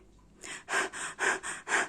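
A person performs rapid panting breathing as a breath exercise, imitating a panting dog with five quick, forceful breaths in a steady rhythm, close and loud.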